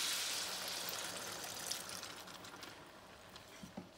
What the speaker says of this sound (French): une fois que nos potirons ils sont revenus, on va y ajouter notre bouillon